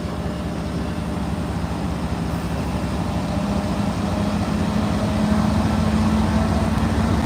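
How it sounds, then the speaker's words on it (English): Diesel locomotive engines of an MBTA commuter rail train to Greenbush revving in first notch at the JFK station, a loud, steady low rumble and drone that swells slightly toward the end, with no talk. "These engines are so loud, they're making the station shake."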